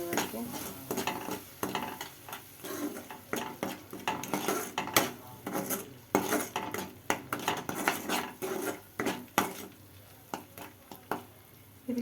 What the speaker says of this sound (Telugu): మంచిగా కలుపుకోవాలండి మొత్తం మిక్స్ అయ్యే వరకు